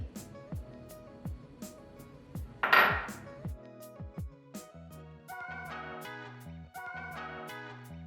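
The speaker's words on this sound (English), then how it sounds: "we're gonna go ahead and start chopping up our cornichons, capers, and parsley" A knife chops cornichons, capers and parsley steadily on a cutting board, repeated sharp taps over background music, with a brief clatter partway through.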